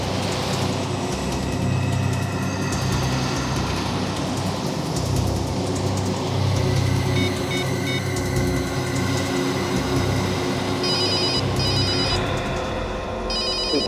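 Telephone ringing with an incoming call in a tense crime-drama scene, a steady repeating electronic ring running loud throughout over a dense background rumble, with no talk.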